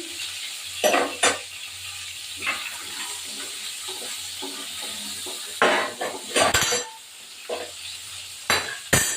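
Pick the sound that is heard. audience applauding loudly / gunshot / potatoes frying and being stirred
potatoes frying and being stirred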